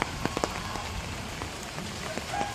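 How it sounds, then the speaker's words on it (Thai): Steady rain falls onto a fish pond, a dense patter of drops with scattered sharper splashes nearby, continuous with no voices. "วันนี้ฝนตก"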